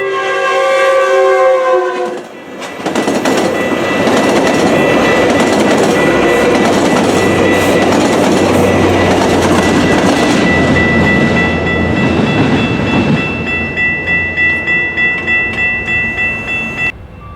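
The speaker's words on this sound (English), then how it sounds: "Metrolink train 859 with the Rotom cab car on point and the F59 PHR on the rear went by" A loud train horn sounds, then a Metrolink commuter train with a cab car leading and an F59PHR locomotive at the rear rumbles past close by in Oceanside, California, with rattling, clacking wheels and a steady roar that slowly fades.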